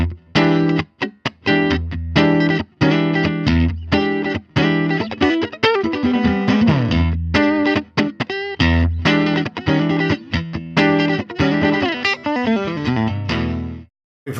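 An electric guitar plays a clean Strat-style tone through a moved-up pickup, with funky, groovy chord stabs and single notes in a busy rhythmic pattern that runs steadily for about fourteen seconds.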